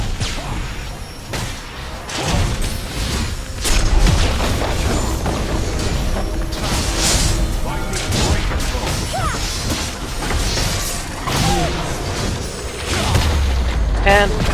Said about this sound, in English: super minion will destroy a turret like it's nothing